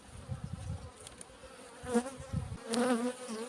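Honeybees buzz close by at an open hive in midwinter with a steady droning hum, rising in brief louder swells as insects pass near.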